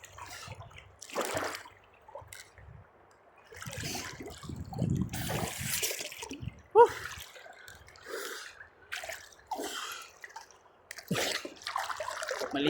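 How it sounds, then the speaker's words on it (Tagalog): River water splashes and drips irregularly nearby as a person bathes, with bursts of sloshing and trickling, while the person gasps and breathes between movements. "Maligo sa natural na ilog mga idol."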